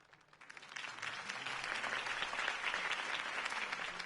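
Sustained applause from a large crowd in Batman: The Telltale Series, swelling up in the first second and then holding steady and loud with dense clapping throughout.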